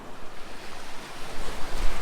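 Calm ocean surf washes steadily at a beach on a Saturday morning, a soft continuous wash of small waves mixed with a light breeze rumbling across the microphone, swelling slightly louder toward the end.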